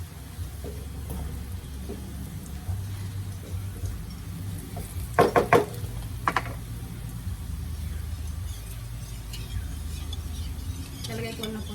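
Garlic toasts in a pan for chili garlic, with a soft, steady sizzle under stirring, and a few sharp utensil clinks against the pan around the middle.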